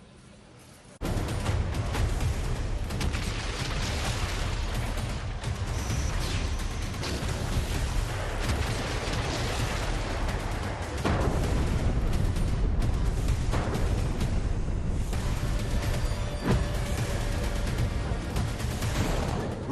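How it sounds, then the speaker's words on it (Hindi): Bombing and artillery fire pound residential areas in the Russia-Ukraine war, a loud, dense roar of blasts and rumbling that kicks in after a quiet first second and continues almost unbroken, with sharper explosive bursts rising out of the din. "रिहायशी इलाकों में बमबारी हो रही है"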